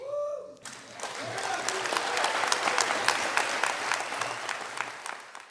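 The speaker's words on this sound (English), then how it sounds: "was met with applause" A crowd at a city meeting applauding as Tuluwat Island is returned to the Wiyot Tribe, dense sustained clapping that starts suddenly after a brief voice and holds steady and moderately loud throughout.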